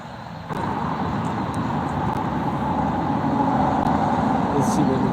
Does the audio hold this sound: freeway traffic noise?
yes